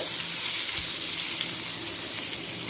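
Pointed gourd (potol) fries in oil on a low flame with a continuous, even sizzle and faint crackle, close and steady throughout.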